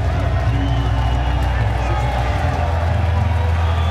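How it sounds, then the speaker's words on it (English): Arena crowd at a GLORY kickboxing event in Chicago waits for the judges' decision, a dense, constant roar of murmuring and shouting from many people filling the hall at an even level throughout. "So the crowd here anticipating the decision."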